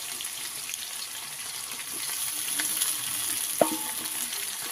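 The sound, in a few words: potatoes and taro frying in a pan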